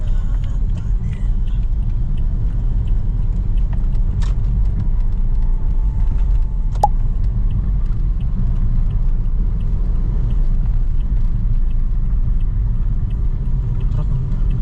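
Heavy traffic rumbles past near a tunnel in Susana Heights, Calamba, with many trucks and cars on the road, a steady loud low roar without a break and no talk.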